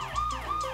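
A police or ambulance siren wails in short rising and falling sweeps, fairly faint and distant over street noise.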